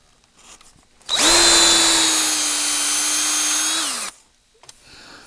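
A power drill bores out the foregrip of a custom fishing rod, one steady high whine running about three seconds, loud and close, with a sharp start and a dropping pitch as it winds down.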